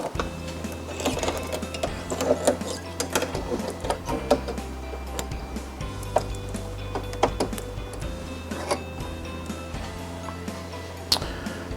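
A single-needle embroidery machine runs a bean stitch over satin stitching on a onesie held in a frame, giving a steady mechanical whir with rapid needle ticks and occasional clicks, quiet and without talk.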